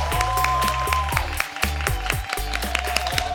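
An academy audience claps in a regular beat of crisp, bright strikes over loud, bass-heavy music playing beneath them.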